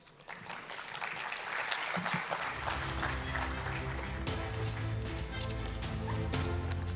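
Audience applause at the Arab Coordination Group Forum, a dense, steady wash of many hands clapping together that holds fairly evenly for several seconds, heard at moderate distance with no voices over it.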